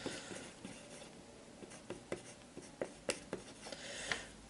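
A marker or chalk squeaks and taps across a classroom board while a logarithm is written out, short uneven strokes in quick succession, close and fairly quiet, with no talking.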